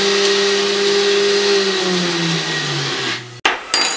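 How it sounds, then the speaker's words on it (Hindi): A spice grinder jar pulverises moong dal with a steady loud motor whine that slowly drops in pitch as it runs, then cuts off abruptly near the end before a brief restart. "ये मैंने ग्राइंड कर ली, 1 मिनट भी नहीं लगा।"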